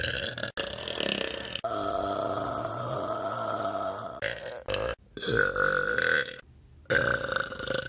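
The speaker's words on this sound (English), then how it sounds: "I'm sorry, it makes me burp." A girl burps in one long, loud, drawn-out eructation lasting several seconds, followed by shorter grunting burps close to the microphone.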